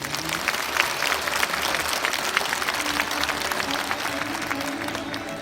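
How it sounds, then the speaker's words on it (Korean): Steady applause from a crowd at a formal event in Jeju, South Korea, dense clapping holding at an even level throughout without pause. "박수 부탁드립니다"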